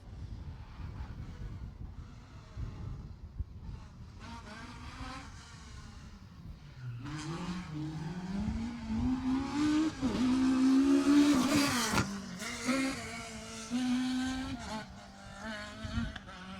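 A rally car at the Jersey Rally comes around a corner, its engine note rising and falling through shifting revs as it nears, growing loud and harsh before easing off, with faint crowd noise behind.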